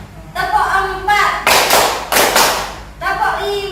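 Hand claps from a standing group following a counted clapping pattern, several loud bursts of claps in a row between stretches of a speaking voice.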